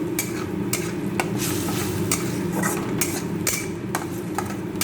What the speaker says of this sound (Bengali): টমেটো পেস্টটা একটু ভাজা ভাজা হবে